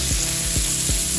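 Smart Balance spread melting in a hot skillet, a steady close sizzle and crackle with a few soft low knocks.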